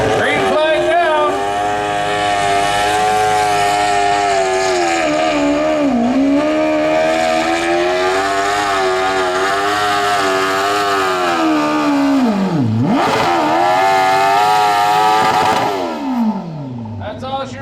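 Loud 1200 lb modified lawn tractors at a truck and tractor pull roar continuously at full throttle, engine pitch wavering and dipping near the end as the run winds down.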